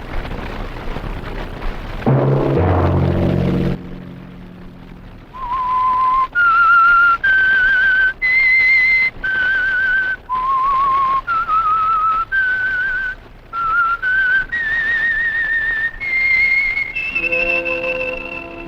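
A whistled tune of distinct notes in a clear, steady melodic line, loud and close, following a brief burst of noise at the start.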